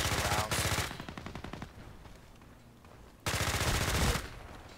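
Rapid bursts of PP-19 submachine gun fire in a video game, loud and sustained, with a quieter stretch of fainter shots between the two heavy bursts.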